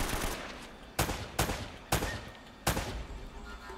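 Gunfire in the video game Uncharted: Drake's Fortune: four crisp, loud shots in an uneven rhythm, each with a short decaying tail, and no voices.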